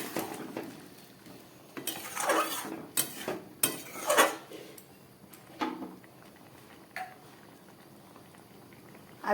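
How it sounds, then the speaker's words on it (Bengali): Jackfruit curry bubbles and spatters in a pan, with irregular pops and clinks of utensils against the pan, close by and moderately loud, with no talking. "তরকারিটা ফুটে উঠেছে"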